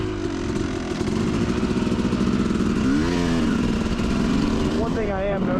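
A Yamaha YZ250 two-stroke dirt bike fitted with an electric starter is ridden, its engine buzzing loud and close throughout, with rising revs and pitch swings toward the end, while a rider talks over it.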